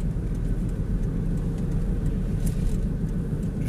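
A car cruises along a road between Dąbrowa Górnicza and Katowice at rush hour, its engine and tyre rumble steady and close from inside the vehicle, with no talking.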